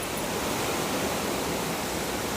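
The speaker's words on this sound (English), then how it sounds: "It's chucking it down." Heavy rain pours down outdoors in a dense, constant hiss, loud and unbroken throughout with no other sounds.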